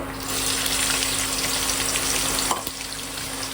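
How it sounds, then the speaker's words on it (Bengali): Meat sizzling in a wok on the stove, a steady close crackle of frying with some watery hiss, ending in a brief clatter and a softer sizzle. "এবারে আমরা মাংসটা বসাবো"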